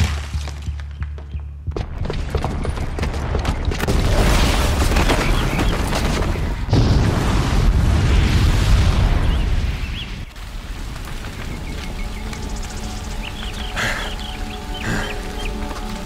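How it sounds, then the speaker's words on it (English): A booby-trapped bomb goes off in Horizon Zero Dawn, a loud, sustained rumbling blast with heavy low booming that swells for several seconds, then settles into lingering debris and ambient game noise. "Because the booby trap on the bomb downstairs is gonna get set off."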